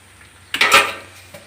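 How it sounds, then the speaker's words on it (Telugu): A lid drops onto a pot of tomato egg curry with a single loud metallic clatter that rings briefly and fades, then a small tap follows. "ఇప్పుడు మూత పెట్టేసుకుందాం"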